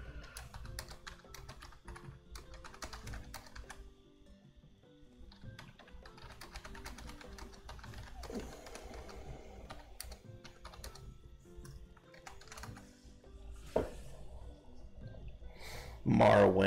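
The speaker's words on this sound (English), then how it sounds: "I'll go ahead and type in here." Computer keyboard typing clatters in quick irregular bursts of close key taps throughout, with a faint background hum and a louder thump near the end.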